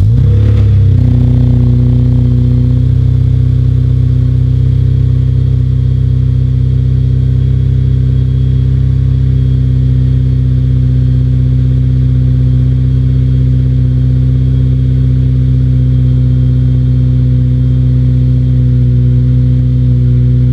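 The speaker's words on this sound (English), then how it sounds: "get the car fired up, and it's time to go for a drive" Car engine, a steady, loud, close low rumble with strong harmonic tones after a brief startup surge, holding a near-constant pitch with no clear revving.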